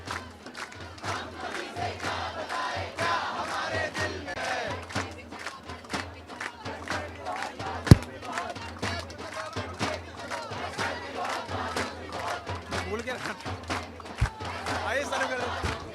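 A night-time protest crowd at Jantar Mantar, New Delhi, fills the space with a continuous murmur of many voices, occasional shouts and a sharp knock near the middle, with nearby speech mixed in throughout.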